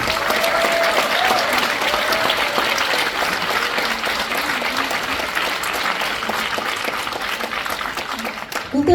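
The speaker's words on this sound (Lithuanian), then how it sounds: "Regina, plojimai jums." An audience at a Šilutė culture centre and chamber drama theatre 80th-anniversary event applauds ensemble leader Regina, with steady, full clapping filling the hall throughout, a faint murmur of voices mixed in.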